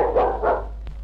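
A dog gives two quick, close barks in succession, followed by a faint short yip, over a low steady room hum.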